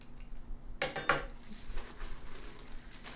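Metal stand-mixer attachments, a beater and a dough hook, clink and clatter together in a quick handful of bright knocks near the mic, then the sound settles into quiet handling.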